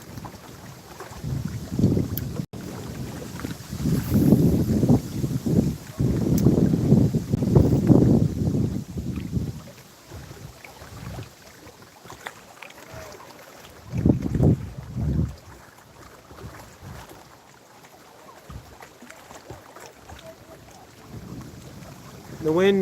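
Wind blows hard over a lake and buffets the microphone on a small fishing boat, a loud rumbling roar in long gusts that eases, then surges again, with faint voices now and then.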